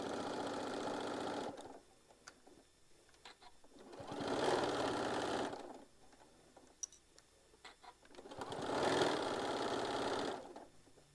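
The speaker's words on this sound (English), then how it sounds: "Now I'm going to set my machine back on the 1/4 inch, and we're going to stitch all the way down." A sewing machine stitches a tote bag in two runs of fast, rhythmic clatter close by, with quiet gaps and faint handling clicks between them.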